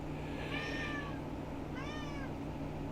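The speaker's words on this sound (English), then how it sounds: "kitty, you're so cute. You're loud, too." A cat meows loudly twice, a long drawn-out call followed by a second after a short pause, over a steady low background hum.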